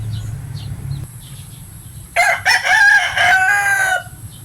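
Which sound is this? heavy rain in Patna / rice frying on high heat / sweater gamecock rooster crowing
sweater gamecock rooster crowing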